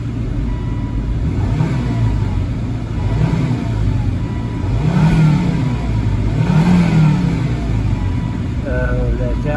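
A car with 181,000 miles, warmed to operating temperature in winter, idles with a steady mid-pitched rumble and is revved in a few smooth rises, with a person talking nearby.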